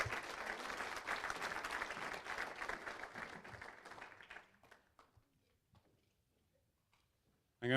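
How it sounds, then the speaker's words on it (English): Audience applause fills a hall during an athletics hall of honor ceremony, dense and sustained for several seconds before thinning to scattered claps and fading into near silence. "Another round of applause for Janie Litchford"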